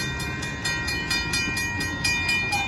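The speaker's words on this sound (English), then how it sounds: "Here comes another train." A northbound Union Pacific grain train rolls past at Oltorf Street in Austin, Texas, its cars clacking in a steady, loud, close rhythm over the rails with no talk.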